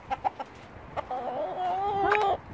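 Rescue hens cluck close by, a few short clucks followed by a longer drawn-out squawking call, on a windy farm.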